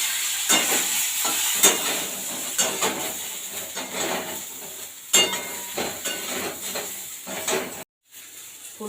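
Cauliflower pieces fry in a pan with dried red chilli, giving a steady sizzle broken by repeated stirring scrapes and a brief drop to near silence near the end.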